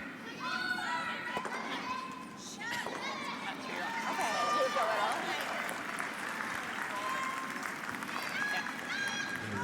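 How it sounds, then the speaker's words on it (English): Spectators at a curling match cheer and applaud in a steady, lively roar lasting the whole stretch, with scattered voices and shouts rising over the noise. "The crowd cheering a run back from Kayla Skrillick, basically to stay on the sheet."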